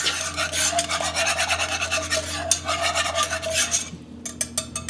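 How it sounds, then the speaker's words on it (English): Apple cider vinaigrette is stirred in a warm pan with rapid, close scraping strokes, a steady rhythmic swishing that thins out briefly near the end before a few final scrapes. "Stir. Make sure that that's well mixed."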